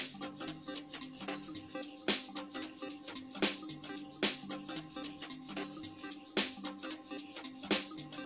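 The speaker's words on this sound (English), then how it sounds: "this is the hot zanten beat that we're gonna be working on it sounds like this" A punchy zanten (sgija) dance beat made in Caustic 3, with sharp, evenly spaced percussion hits over a steady bass groove and layered synth tones, loud and continuous.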